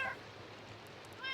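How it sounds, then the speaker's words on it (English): Meowing from cats in the Minecraft video game comes in short faint bursts at the start and end, with a quiet pause between them. "My cats live here."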